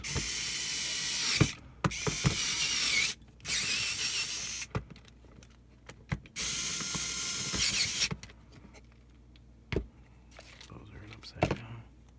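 Panhead screws are backed out of a Young Living Desert Mist diffuser base with a small screwdriver, giving short ratcheting, clicking bursts that start and stop close by, broken by brief pauses.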